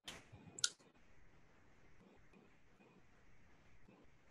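A computer mouse gives a single sharp click early on while working in a Microsoft Excel spreadsheet, followed by a faint, quiet room background.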